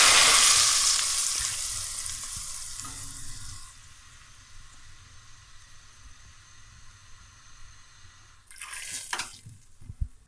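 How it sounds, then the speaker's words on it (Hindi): Hot oil tempering for lentil dal sizzles loudly at first, then fades to a gentle crackle, followed by a short burst of stirring and spattering near the end. "तड़का हमारा तैयार हो गया है और अब हम दाल में शामिल करेंगे।"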